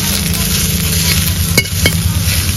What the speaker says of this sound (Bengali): কচু শাকটা ভাজা হতে লাগুক